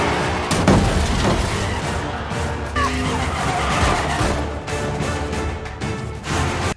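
A car chase from an action movie set in a European city, with engines roaring, tires skidding and squealing, and crashing impacts in a loud, busy mix.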